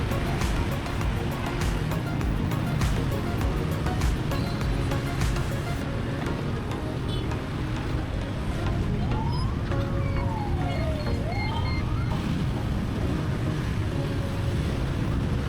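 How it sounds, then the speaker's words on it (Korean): Motorbike traffic fills the alleys of Ho Chi Minh City, a dense, continuous roar of many small engines close by, with a rising and falling horn or siren tone cutting through midway. "골목길마다 오토바이들이 쏟아져 나와 거리를 가득 메우고 있었습니다"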